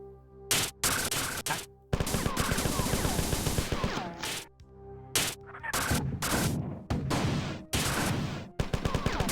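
Assault rifle gunfire in the 1994 video game Marathon, loud rapid automatic bursts broken by short pauses, with sustained rattling volleys and explosive impacts.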